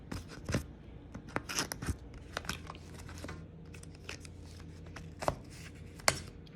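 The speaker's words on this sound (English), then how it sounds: "I peel off this little piece of tape here, and then it just opens up from the side" Tape is peeled off an Apple Watch Series 5 box and the box is opened. Close, crisp crinkling, scraping and sharp clicks come in quick irregular bursts, with no talking.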